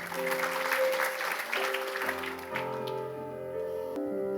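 Congregational applause in a church, a dense steady patter running under sustained organ or keyboard chords that carry on after the clapping thins.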